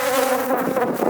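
Honey bees buzz at a beehive colony during queen rearing with a cell builder, a dense, steady swarm drone with a strong humming tone, close and continuous, with no talking.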